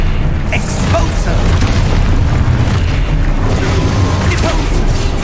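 An explosion spell in Hogwarts Legacy goes off as a loud, sustained booming blast with rumbling debris, close and dense, while a voice is faintly heard underneath.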